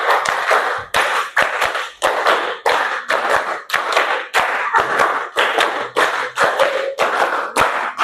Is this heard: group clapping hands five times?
yes